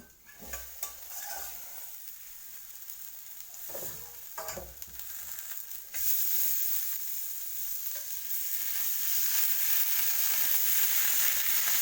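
Brinjal (eggplant) frying in a pan for mashed brinjal gives scraping and clattering as the pieces are turned, then a louder, steady sizzle that builds and holds, close by with no talk.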